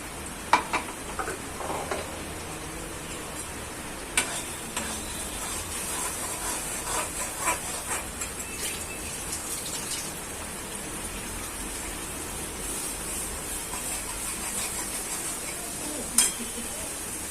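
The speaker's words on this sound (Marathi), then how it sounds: "आता वाटण आपण याच्यामध्ये घातलं ते 1-2 मिनिटं परतून घेऊया." Ground masala paste sautéing in a generous amount of oil for a methi and kolbi (dried shrimp) curry, a steady close sizzle with scattered sharper crackles and spatters throughout, no talking.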